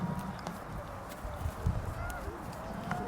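A ridden horse's hooves clip-clop at a walk on the Battle of the Boyne site at Oldbridge, a soft irregular patter under steady outdoor background noise.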